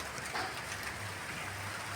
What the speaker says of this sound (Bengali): দেখো বেরোবো, রেডি হয়েছি, আবার বৃষ্টি শুরু হয়ে গেছে